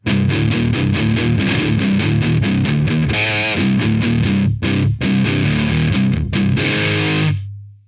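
Electric guitar through a Joyo Taichi distortion pedal with clean-sounding distortion, playing a busy riff of chugging chords and a few bent notes, loud and continuous, ending on a sustained chord.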